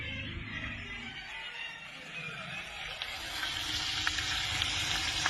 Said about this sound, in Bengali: চলো আমি রান্না করছি, তোমাদেরকে চিকেন রান্না করছি।